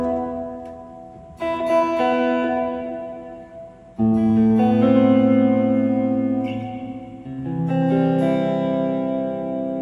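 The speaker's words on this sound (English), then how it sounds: "Inverted reverb halls are one." Sustained tones swell and bloom with a reversed, rising reverb wash from a Lexicon Model 200 digital reverberator's inverted reverb hall effect, each chord building into a dense echoing tail before the next begins.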